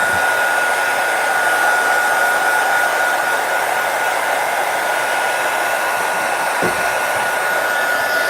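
A small heat tool blowing hot air over freshly stamped ink on paper, a steady, close, continuous whir with a fixed high whine that holds for the whole stretch, with no talk.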